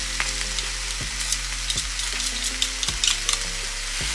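Onions and a garlic clove sauté in a pan set to 270 degrees, producing a continuous close sizzle with a few stirring scrapes and knocks of a utensil, over a low steady hum.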